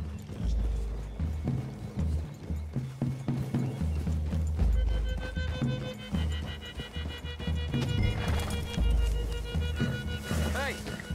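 Horses' hooves clip-clop at a walk in Red Dead Redemption 2 as riders move through trees toward a clearing, a steady, moderately close rhythm under game music, with a whinny and voices talking.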